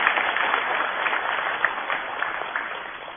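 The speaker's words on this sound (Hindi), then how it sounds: "इनका ताली बजा के स्वागत कीजिए आप।" A crowd at an outdoor government event in Bhopal claps steadily to welcome minister Meena Singh, a continuous patter of many hands at moderate loudness with a few sharper individual claps standing out.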